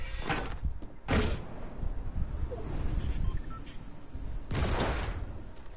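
A cannon launch in a video game: a sharp burst near the start and another about a second later, then a third near the end, over a low continuous game background.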